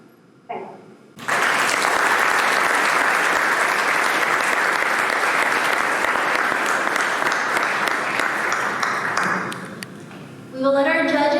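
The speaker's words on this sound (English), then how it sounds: "please join me in giving a round of applause to all of our amazing competitors" Loud, sustained applause from a large audience at a university Three Minute Thesis competition fills several seconds, fading out before a voice resumes speaking.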